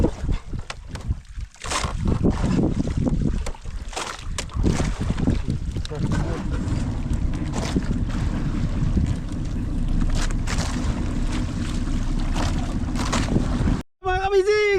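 A fishing boat's motor runs on open water in a continuous low rumble with wind buffeting the microphone, and voices are heard along with it.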